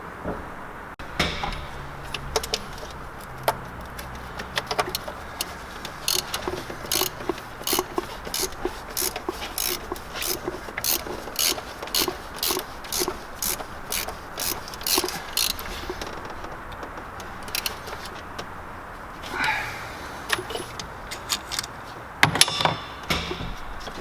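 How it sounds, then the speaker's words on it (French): A ratchet wrench works a 27 mm nut on a Peugeot Expert 2.0 HDI van during a turbo replacement, giving fast, regular runs of sharp metallic clicks in bursts, with short pauses and a few louder knocks. "Donc c'est du 27, je vais reprendre mon cliquet."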